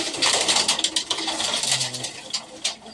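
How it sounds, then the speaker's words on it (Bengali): A brown-necked male pigeon with red eyes coos in short, soft bursts at close range, with faint rustling and no talk. "এটা হচ্ছে আমার বাসার একটা খয়রা গলা নর কবুতর"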